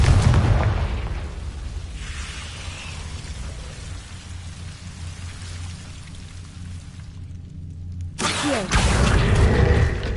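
The Confringo blasting spell from Hogwarts Legacy sets off a dull boom at the start, followed by a long crackling, rain-like rumble that fades away before a second loud burst near the end.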